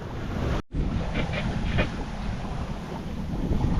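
A sailboat moves under sail through water at about four knots during a solo sea trial with a Hydrovane self-steering gear, wind and rushing water hissing steadily and loudly, with a brief dropout early on.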